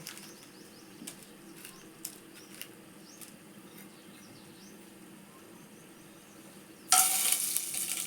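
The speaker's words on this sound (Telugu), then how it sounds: "నూనె సూత వేడయింది ఇప్పుడైతే నేను వేసుకుంటా ఇది మసాలా" After a quiet stretch with a few faint ticks, masala for chicken bagara drops into hot oil and bursts into a sudden, loud, close sizzle that carries on to the end.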